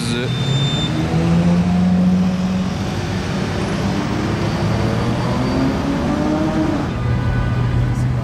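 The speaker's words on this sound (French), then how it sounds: "la Bugatti Veyron Race Mode" A Bugatti Veyron supercar in race mode at the Monaco Grand Prix, its engine a steady, loud drone that rises slightly in pitch, with crowd voices and street noise around it.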